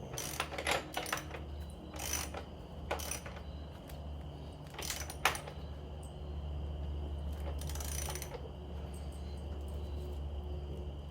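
A ratchet clicks in quick bursts while the axle nut on a Sur-Ron Ultra Bee electric dirt bike is tightened, with short metallic ratcheting runs separated by pauses over a quiet background hum.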